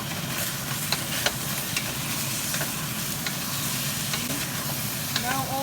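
Chicken drumsticks sizzle steadily as they brown in a pot, with continuous frying crackle and occasional stirring scrapes, close and alone without talk.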